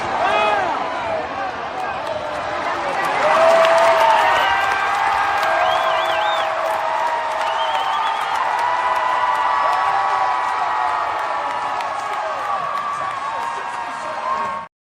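A packed arena crowd of about 10,500 roars and cheers at a women's basketball game, a sustained loud swell of voices with whoops and whistles, rising early then holding steady to the end.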